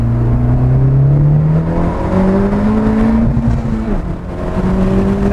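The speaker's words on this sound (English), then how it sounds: "Let's just put it to the floor and see what it does." A tuned 2017 Honda Civic Type R with a Hondata tune pulls hard at full throttle from about 3,000 RPM in second gear, its engine note climbing steadily and loudly from inside the car, rising pitch sweeping upward over several seconds.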